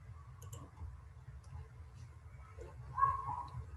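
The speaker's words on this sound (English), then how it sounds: "click the next button" A computer mouse clicking the next button during a software installation, giving a few faint, sparse clicks close up against a low background hum.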